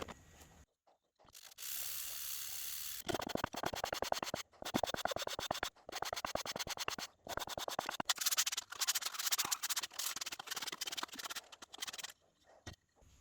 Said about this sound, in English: it is virtually impossible for a project not to include a good amount of hand sanding